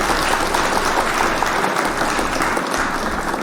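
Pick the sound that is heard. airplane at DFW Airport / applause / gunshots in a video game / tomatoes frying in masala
applause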